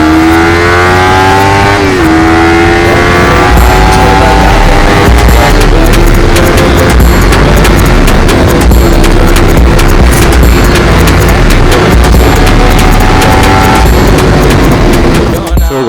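A motorbike engine runs loud and close, its tone climbing and wavering as it revs, with a dense rumble throughout and some voice in the mix.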